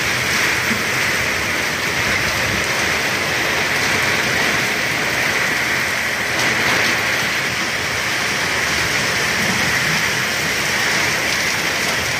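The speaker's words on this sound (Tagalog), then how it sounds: "halos puti yung buong paligid dahil sa lakas ng ulan." Heavy rain pours down steadily around a village in Nepal, a dense, even hiss that fills the scene without letup, close and moderately loud, with no talking.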